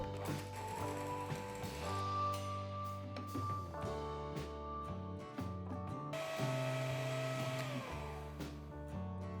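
An electric mixer whips egg whites with gradually added sugar to stiff peaks for Japanese souffle pancakes, a close, steady motor whine with shifting pitch and rattling beater clatter against the bowl.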